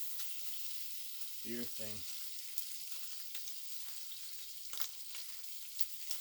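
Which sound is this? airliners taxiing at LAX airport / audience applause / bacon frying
bacon frying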